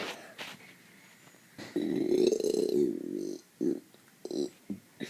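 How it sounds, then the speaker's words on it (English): A person burps once, long and loud, close to the listener, a rough drawn-out belch lasting over a second, followed by a few shorter vocal bursts or grunts. "then I'm gonna do a final finale burp"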